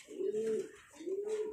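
A pigeon coos nearby in two soft, low, drawn-out calls separated by a short pause, clear and alone with no speech.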